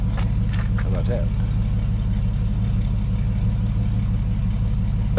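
An old black pickup truck engine runs at a steady, loud idle with a low, even rumble. Brief bursts of another sound break in near the start, then the engine continues alone.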